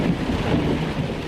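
Brief burst of an extremely violent night thunderstorm: a dense rumbling roar of thunder and rain, with wind buffeting the microphone.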